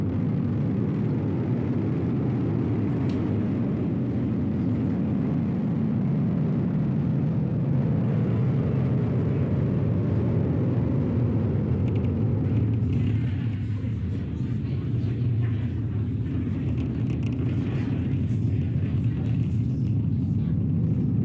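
Falcon 9 rocket carrying the Crew 10 mission climbs after liftoff, a steady, heavy low rumble with broadband roar that stays loud and continuous throughout, easing slightly in the upper range later on.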